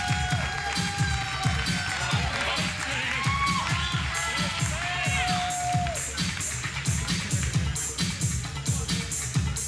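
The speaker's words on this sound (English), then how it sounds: "another round of applause for Mr. Entertainer of the Year, Rasean Montrese" Crowd applause and cheering for a male entertainer's final performance as Entertainer of the Year 2005, dense clapping that holds steady throughout, with whistle-like calls and voices rising above it.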